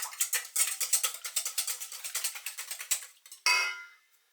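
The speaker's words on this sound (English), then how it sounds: "give those a whisk." Two eggs are beaten with a metal whisk in a bowl, making a quick, steady run of bright clinking taps for about three seconds. A single louder clank ends it, all close and with no talk.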